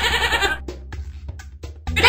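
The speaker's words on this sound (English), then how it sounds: "It's a goat!" A goat bleats loudly and close, one long wavering bleat followed by shorter broken calls and a fresh bleat at the end, heard alone in a children's animal-sounds game.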